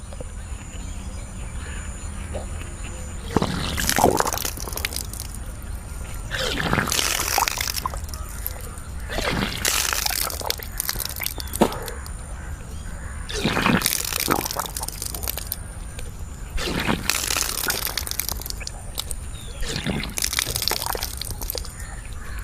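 Water is vomited during kunjal kriya yoga cleansing. Several loud retching gushes and splashes come at intervals of a few seconds, with quieter gaps and faint background noise between them.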